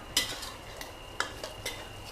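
Thick green curry paste is stir-fried in a pan with little oil, a quiet bubbling sizzle punctuated by several sharp spatula scrapes and clicks at an uneven pace.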